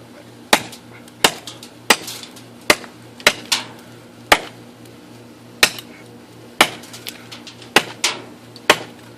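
A TOPS SXB knife chops into wood in a dozen sharp, separate strikes with irregular gaps between them, each hit loud and close in an otherwise quiet setting.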